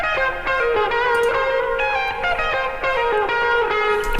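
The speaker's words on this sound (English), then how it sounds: "electric guitar big, and it sounds like this when you play it in solo." A wide, washy electric guitar rings out in sustained chords with long reverb tails, thick and full throughout with no talking.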